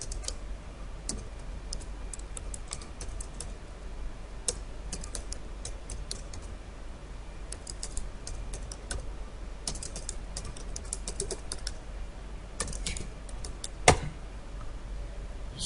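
Computer keyboard keys tapped in short irregular bursts while a file title is typed, quiet clicks close by with no talking.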